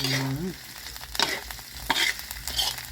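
Pork stir-fries with curry paste in a hot pan, with a steady close sizzle broken by a few sharp stirring scrapes and clatters.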